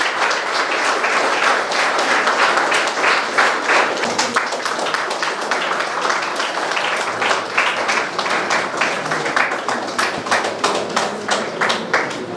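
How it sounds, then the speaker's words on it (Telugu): Audience applause for Professor Anushtha Shabana after a Sanskrit guru invocation, dense clapping from many hands that holds steady and loud, then loosens into more distinct, rhythmic individual claps toward the end. "క్లాప్స్ కొట్టండి."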